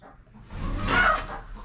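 Hens let out of their coop give a brief, close cluck and squawk that rises and fades within a second or two, with no talking over it.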